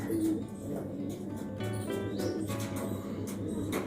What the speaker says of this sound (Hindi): ये सबसे पुराना कबूतर है साहब